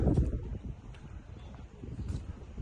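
Gusty wind off the water while sailing an RS100 dinghy buffets the microphone with a low rumbling roar that rises and falls, a few soft thumps mixed in, and no voices.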